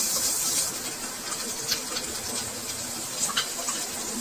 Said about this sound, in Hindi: थोड़ा सा पानी ऐड कर लीजिए